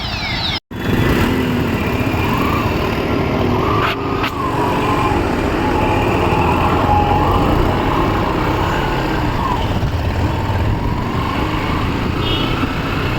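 Motorcycle riding along the Digha marine drive by the sea, its engine droning steadily and close throughout over a constant rush of wind, with a brief sharp dropout near the start.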